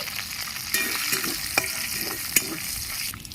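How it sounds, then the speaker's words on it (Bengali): Dried chilli, bay leaf and five-spice seeds sizzle loudly in hot oil after shrimp frying, a steady close crackle broken by light stirring scrapes. "একটা শুকনো লঙ্কা ফোড়ন দিয়ে দিচ্ছি তেজপাতা পাঁচ ফোড়ন দিয়ে দিচ্ছি"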